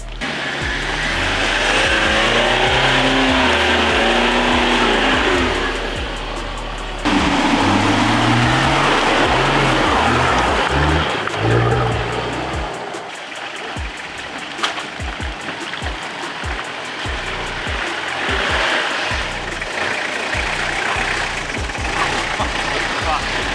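An off-road vehicle climbing a sandy slope, its engine loud and straining with revving surges and shifting pitch, then settling into bumpier lower rumbling with people talking over it.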